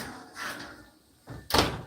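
An oven door shuts after a Salisbury steak TV dinner goes back inside, one loud solid thump near the end that follows softer kitchen clatter and handling noises.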